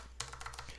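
Keycaps pressed onto a Razer BlackWidow mechanical keyboard during reassembly after cleaning, giving a quick run of faint, close plastic clicks and taps in under a second, with no talk.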